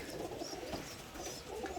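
Pigeons coo softly and repeatedly in a rooftop loft, faint and close, with a low background hum and no talk.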